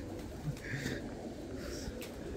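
Breeder pigeons cooing softly inside a loft in Bradford, UK, low muffled coos repeating under a faint background hiss, fairly quiet and close, with no speech.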